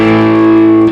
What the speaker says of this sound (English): pluck the 5th string and the 4th string